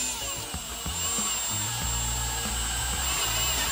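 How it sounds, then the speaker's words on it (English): A power drill fitted with a half-inch bit bores through the seam of a plastic gas can, whining close up with shifting pitch as it cuts through. "drill your hole"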